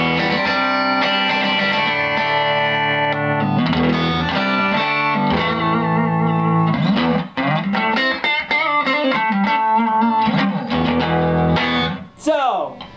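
A vintage Rickenbacker TR14 tube-style guitar amp turned up to about 8, no distortion pedal, plays loud strummed chords and single-note runs that begin to break up naturally, ending in a brief pause and a closing strum.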